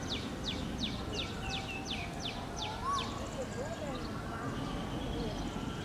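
An oriole in Ayutthaya Historical Park, Thailand, repeats a quick run of about ten sharp, high chirps at a steady pace, then adds a few looser whistled notes, with a person talking over a noisy outdoor background.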